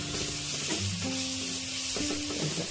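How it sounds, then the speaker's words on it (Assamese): Masala with a pinch of garam masala, salt and turmeric fries in hot oil while being stirred, giving a steady close sizzle and scraping clatter with a low tonal hum underneath. "এনেদৰে ভাজি ল'লোঁ।"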